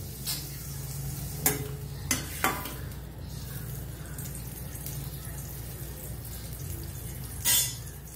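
Butter and oil heat together in a pan for egg butter masala, making a soft, low sizzle broken by a few sharp clinks and scrapes of a utensil against the pan.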